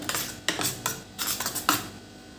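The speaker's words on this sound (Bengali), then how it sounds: "একটা চামচে করে আমি নুনটা ভালো করে মিশিয়ে দিলাম" A spoon stirs salt into a spice paste inside a metal tiffin box, a few quick scraping clinks in an irregular rhythm, close and fairly clear, with no talking.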